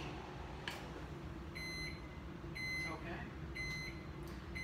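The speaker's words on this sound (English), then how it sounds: "that noise is probably one of my favorite noises when making a dish in the microwave" A microwave oven beeps four times after cooking nachos, giving clear high electronic tones spaced about a second apart over a low steady hum, with a brief spoken word in between.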